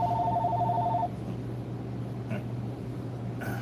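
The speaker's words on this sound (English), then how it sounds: "I got the other phone ringing and I'm here by myself" A telephone rings with a brief electronic double-tone trill at the start of the call at a bait and tackle shop, then fades to a quiet low hum of room noise, with a faint click near the end.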